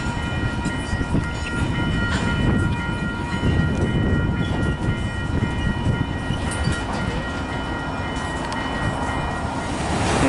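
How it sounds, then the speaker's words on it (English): A CN freight train reverses slowly through a rail yard, a steady low rumble of rolling cars with faint wheel clatter and a thin high tone running throughout, close and continuous with no voices. "And here they're backing up. They are setting their train off in the yard."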